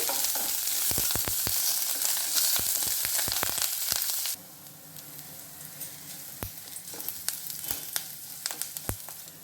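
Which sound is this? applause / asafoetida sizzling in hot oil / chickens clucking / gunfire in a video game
asafoetida sizzling in hot oil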